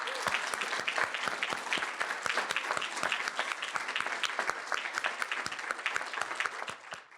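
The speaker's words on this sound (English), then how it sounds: "Please join me in a round of applause for all of the students" Audience at the John P. Garrahan Leadership in Diversity Awards claps steadily for honored students, a dense even round of applause with sharp individual claps standing out, holding for about seven seconds before tapering slightly at the end.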